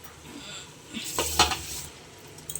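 Chicken biryani ingredients are stirred inside a pressure cooker, with a quiet start and then a burst of clattering metal scrapes and light sizzling near the middle.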